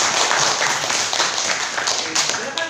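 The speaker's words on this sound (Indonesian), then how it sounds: "Kita beri tepuk tangan buat kelompok 3." Classroom students clapping for group 3 after their presentation, a dense, steady patter of many hands close by that fades slightly toward the end.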